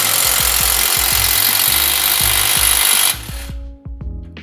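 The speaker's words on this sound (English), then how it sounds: "we're gonna take off this lower control arm bolt right here that goes into the shock" A pneumatic impact wrench hammers on the lower control arm bolt of a Pontiac G8 during a coilover install: a loud, close, rattling burst of rapid impacts for about three seconds, then stopping, followed by a few faint metallic clinks.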